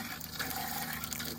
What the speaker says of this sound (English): I'm gonna make sure that I've got pink RV antifreeze coming out of both my hot and cold water valves